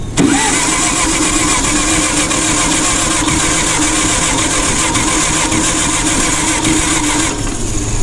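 A vintage two-stroke gas forklift engine cranks and catches on its first start in decades, then runs loud and close with a steady rough idle for several seconds before dropping off near the end.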